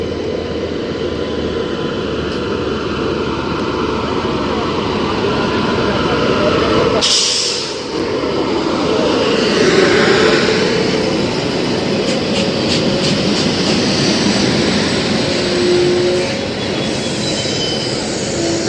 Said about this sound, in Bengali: পুরী থেকে আনন্দ Bihar টার্মিনালগামী train number 12875 Nilachal express ইতিমধ্যেই কিন্তু চলে এসছে ঝাড়গ্রাম রেলওয়ে স্টেশনে